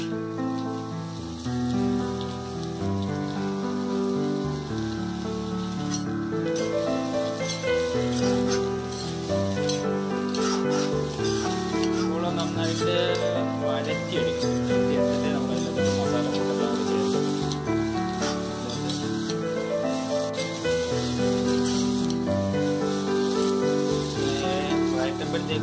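Sliced onions for beef biryani fry in hot oil with a steady, rain-like crackling sizzle that runs the whole time beneath music, moderately loud and even.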